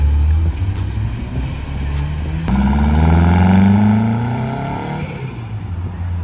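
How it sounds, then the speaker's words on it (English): Cars leaving a car meet, engines revving and accelerating past close by with turbo flutter chatter, rising engine tones and a sharp pop midway as one pulls away. "I really hope that picked up them turbo flutters then."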